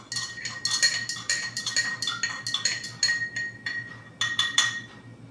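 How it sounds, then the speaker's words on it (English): Liquid liver of sulfur gel solution being stirred for darkening a 90% silver coin ring, giving quick repeated light clinks of a utensil against a glass container, close and fairly soft with short pauses. "And give that a stir."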